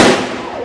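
A loud, close firework blast bursts in Guatemala, a sharp crack trailing into a broad rumbling decay within a fraction of a second, with no voices over it.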